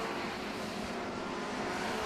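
Racing cars in a 2021 BARC circuit race roar past in a dense, continuous wash of engine noise, loud and close for the whole stretch with no gaps.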